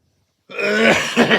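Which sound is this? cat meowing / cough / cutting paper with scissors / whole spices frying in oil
cough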